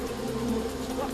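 Hornets buzz around a nest in a steady, faint, close drone of many wings, continuous for a brief moment.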